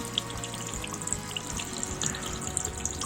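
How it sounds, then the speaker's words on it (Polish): Warm tap water runs steadily over a fishing line spool, a continuous close hiss and splash with faint dripping flickers and no voices. "Naszym prostym sposobem jest po prostu włożenie naszej szpulki pod ciepłą wodę."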